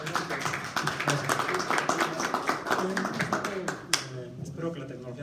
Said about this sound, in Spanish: vamos a darle un fuerte aplauso al doctor Alba